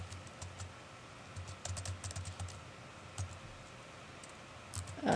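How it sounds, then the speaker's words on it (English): Keys on a computer keyboard are pressed in quick bursts to enter a short wall address for an online board, soft close clicks with pauses between clusters and no talking. "if you want to type in words to make it a little more related to your topic"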